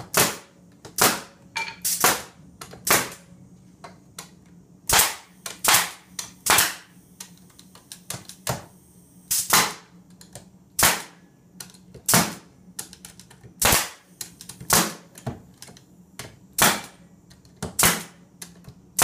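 Rapid, uneven bursts of sharp nailing clicks as a Langstroth beehive frame is nailed together in a building jig, with dozens of crisp snaps and brief pauses between runs.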